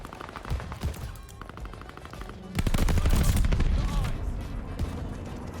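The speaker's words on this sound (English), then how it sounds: "My own bombing run." Bombing run in Call of Duty: Vanguard, loud explosions and dense rapid gunfire erupting partway through, booming and crackling continuously over a busy game soundscape.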